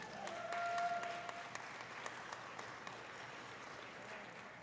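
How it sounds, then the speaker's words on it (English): A crowd at a powerlifting competition awards ceremony applauds steadily, clapping that swells briefly and then continues at an even, moderate level. "Let's give them all a round of applause."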